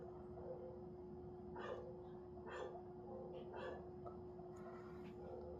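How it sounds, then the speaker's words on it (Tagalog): A dog barks a handful of times in the distance, the faint, scattered yaps sitting over a steady low background hum. "Ang ingay naman ng aso."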